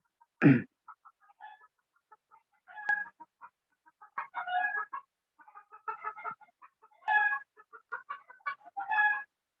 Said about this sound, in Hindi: मेरे घर के आसपास में बहुत सारा मुर्गी रखा हुआ है। आप लोग को जरूरत है तो ले जाइए, ये बहुत डिस्टर्ब कर रहा है इन दिनों में।